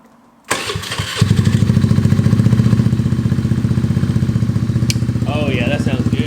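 A 2022 Honda Navi motorcycle fitted with a Yoshimura race exhaust cranks and fires up, then settles into a loud, close, rhythmic idle with steady pulsing putter; a voice speaks briefly near the end.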